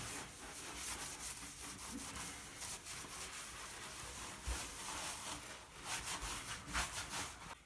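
Sponge rubbing grout across shower tile, a steady scrubbing swish with repeated rough strokes, fairly close and continuous for several seconds, no voices.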